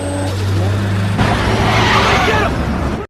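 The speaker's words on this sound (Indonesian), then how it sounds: "Tiba-tiba sebuah mobil dengan cepat melewatinya" A car speeds past on a road, its engine building to a loud roaring rush with a harsh hiss midway, close by, then cutting off abruptly at the end.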